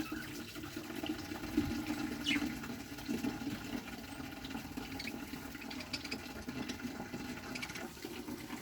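Water is poured from a bottle into tie-dye, a continuous close splashing trickle with small gurgles running steadily for several seconds without talk.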